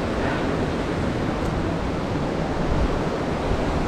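Rushing river water pours through the Cucumber Rapids pinch point boulder field, a loud, steady broadband roar that holds constant without pause from start to finish, close and alone.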